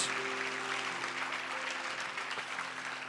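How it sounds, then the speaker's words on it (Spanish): A church congregation applauds steadily throughout, a dense wash of clapping with a low sustained organ or keyboard tone humming beneath it. "dele un aplauso a Dios"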